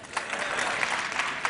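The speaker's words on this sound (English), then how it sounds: "if you know Hindi, please clap." Audience applause at a TED Talk, a brief burst of many hands clapping densely and evenly throughout a large hall.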